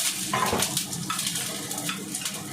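Cold water running from a kitchen tap, a soft, steady trickle and splash with faint clinks of dishes, fairly quiet and close.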